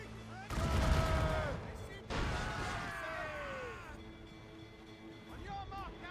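Naval cannon fire from a warship in Assassin's Creed Rogue: two heavy booming blasts about a second and a half apart, each rumbling off slowly, with voices talking over the sea battle.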